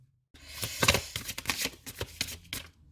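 Tarot cards shuffled for a reading, a run of quick riffling bursts and soft card slaps in a close, quiet room, with no talking.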